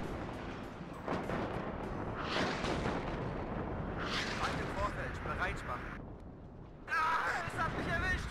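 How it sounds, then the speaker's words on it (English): Artillery barrages in a war video game, repeated heavy bursts and rumbling impacts rolling across the scene at moderate distance, with someone talking over much of it. "So much artillery coming in, very little of it hitting the actual road"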